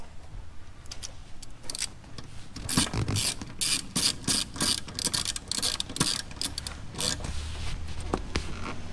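A ratchet clicks in rapid bursts as cable ends are tightened onto a solenoid in a 12V touring wiring install, loud, close and mechanical, with short pauses between strokes.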